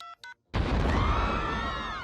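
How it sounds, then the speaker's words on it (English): Two short electronic beeps of a cartoon cell phone being dialed, quickly followed by a sudden loud burst that rings out and slowly fades. "I'm gonna call Mahmoud right now on this cell phone he gave me"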